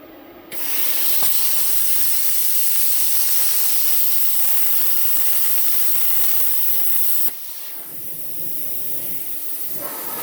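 A new plasma cutter set to 40 amps slices through metal with a loud, steady hiss that starts abruptly, holds for several seconds, then drops to a slightly quieter rushing tone.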